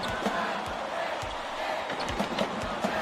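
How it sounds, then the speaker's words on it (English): A large arena crowd in a college basketball video game roars steadily and loudly, with basketball bounces thumping underneath and scattered shouts rising from the noise. "This crowd is going insane. I love the energy of this building. Listen to them."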